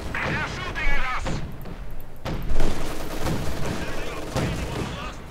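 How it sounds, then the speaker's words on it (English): Gunfire and artillery blasts crackle and boom loudly in the World War II strategy video game Company of Heroes 2, with dense overlapping bursts and heavy impacts, and voices are heard amid the battle. "They're shooting at us."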